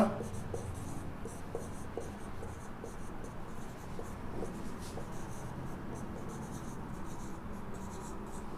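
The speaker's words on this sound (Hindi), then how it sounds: "दोनों चीज़ें मैं साथ लिख दे रहा हूँ" Chalk or marker strokes scratch steadily across a board during a Hindi maths lesson on squares and square roots, a continuous close rhythm of short writing scrapes with a low background hum.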